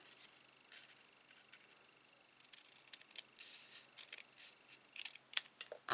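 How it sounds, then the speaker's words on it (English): Scissors snip away sections of cardstock for a pop-out card, a series of quiet, crisp cuts that grow closer together and more frequent toward the end. They sound close but faint, with no voices. "Now this section, you just want to cut all that away"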